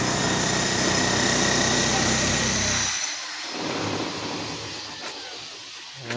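Construction and demolition machinery behind a building roars loud and continuous for about three seconds, then drops to a quieter, uneven rumble with faint knocks.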